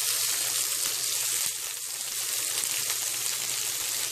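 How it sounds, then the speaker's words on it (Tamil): Onions sauté in a pan, a loud, dense sizzle running without a break, with a brief stir or tap partway through and no voices. "இதோட வெங்காயத்தை போட்டு நம்ம வதக்கிக்கலாம்."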